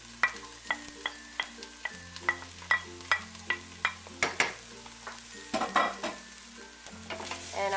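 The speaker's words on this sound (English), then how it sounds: "And I'm going to keep giving that a stir." Onions and garlic frying in a pan, with a steady rhythmic series of close spoon strokes and scrapes over a quiet sizzle, picking up more irregularly toward the end.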